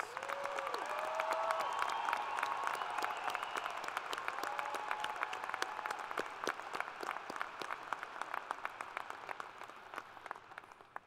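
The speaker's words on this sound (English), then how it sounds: "Everyone, a round of applause for all of our graduates." Sustained audience applause for graduates at a fall university commencement ceremony, a dense steady wash of many clapping hands from a large crowd that gradually thins toward the end.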